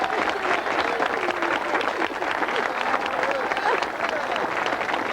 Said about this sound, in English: let's give everyone a big round of applause before we sign off